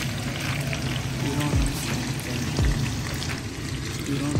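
Tofu and pork dumpling pies go into a pan of oil preheated to medium-high, giving a steady close sizzle with a few soft knocks as each piece is placed.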